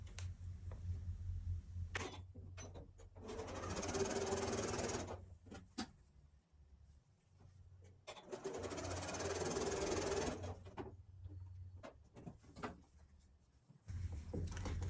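A sewing machine stitches quilt fabric squares together in two sustained whirring runs, each a few seconds long, separated by quieter handling of cloth and small clicks, close by and with no talking.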